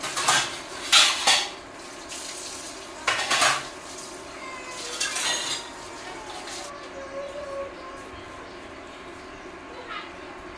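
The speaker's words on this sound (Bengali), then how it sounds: "এর মধ্যে বাসনগুলি আছে, বাসনগুলি দিয়ে নেব" Cooking pots and metal utensils clatter and clang in a home kitchen where fish and bitter gourd are being prepared, several sharp bursts in the first half easing to lighter, scattered clinks.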